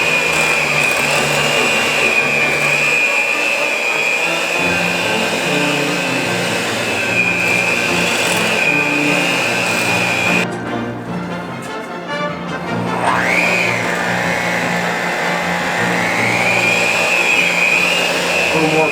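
A kitchen appliance chops boiled potatoes for mashed potatoes, a loud steady motor whir that drops briefly and then rises again in pitch as the power is turned up.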